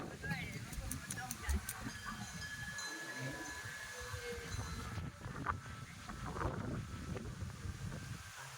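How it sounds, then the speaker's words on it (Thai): Strong wind gusts buffet the microphone at a high hilltop forest temple in Nakhon Ratchasima, Thailand, a steady low rumble with louder surges throughout, while someone speaks over it. "ลมแรงแลว"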